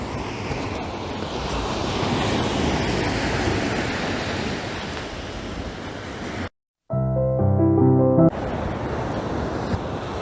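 Ocean water and waves wash against a jetty with a long sandy stretch and rock formations, a steady broad surf roar with wind buffeting the microphone, broken by a brief silence and a short musical interlude before the surf resumes.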